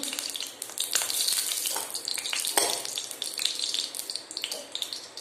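White cooking oil sizzling in a kadai before whole cumin, dried chillies and garlic go in, a bright, close crackle with scattered pops and some stirring or watery clatter throughout.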